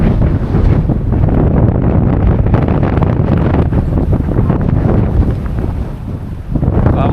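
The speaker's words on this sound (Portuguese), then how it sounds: "Tem rajadas aí pela previsão de 40, 45 km por hora e a gente tá sentindo aqui" Strong Patagonian wind gusts of about 40–45 km/h buffet the microphone with a loud, continuous roaring rumble that eases briefly near the end and then surges back.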